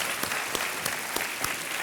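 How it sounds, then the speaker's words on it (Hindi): Studio audience applause on a Hindi TV quiz show set, a steady dense wash of many hands clapping with a few sharper peaks, moderately loud and with no voices over it. "तालियों के साथ"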